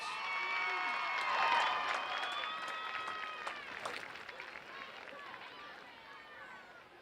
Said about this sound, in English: Let's have a big round of applause for both scholar athletes